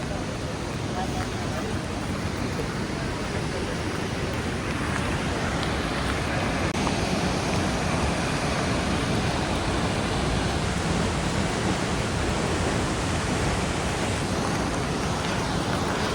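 Steady roaring rush of a waterfall right beside a mountain road on a landslide-prone Himalayan route, loud and continuous, broadband noise filling the whole clip with no pauses.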